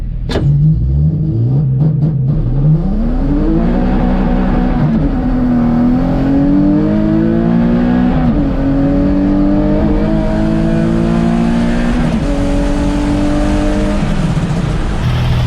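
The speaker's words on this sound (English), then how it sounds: "Car's pulling pretty good." A Nissan 350Z-family car tuned with an Uprev ARC launches and accelerates hard, the engine snarling up through a series of rising gear pulls, loud and close, with no talk over it.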